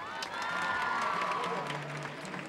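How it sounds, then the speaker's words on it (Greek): Audience applause and cheering at a music awards show, a sustained wash of clapping from a large crowd in a hall, with tonal music or voices carrying faintly underneath. "θέλω ένα δυνατό χειροκρότημα"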